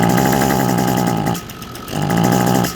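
An Echo SRM 225 string trimmer with a clogged muffler runs up close at a buzzy, uneven idle, sagging briefly mid-way before picking back up to the same rough, sputtering drone.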